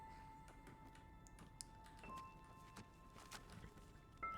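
Faint horse hooves clip-clop at a walking pace in the Enderal mod for the Skyrim video game, soft repeated thuds over a low ambient bed with occasional tonal blips.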